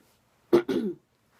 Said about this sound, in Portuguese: Aqui tá muito seco, gente, então eu vou estar sempre sentindo esses pigarros